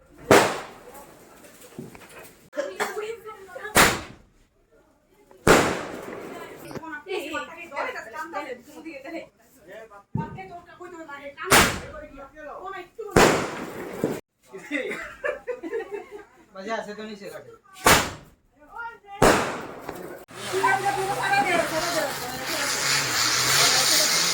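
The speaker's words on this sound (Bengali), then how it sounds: "আর এখন বাজি ফাটানো হবে" Firecrackers bursting outdoors at a Lakshmi puja celebration: around eight sharp, loud bangs at irregular intervals, with laughter and chatter from a group of people between the blasts.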